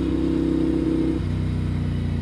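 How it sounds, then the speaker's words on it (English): A car engine hums steadily in road traffic on an interstate highway in North Carolina, a loud, close drone whose pitch drops partway through, with no voices. "Damn traffic today."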